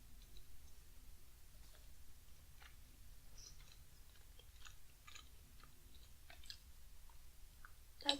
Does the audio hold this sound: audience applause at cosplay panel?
no